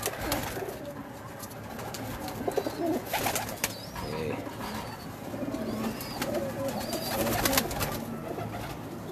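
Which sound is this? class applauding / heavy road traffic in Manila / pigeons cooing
pigeons cooing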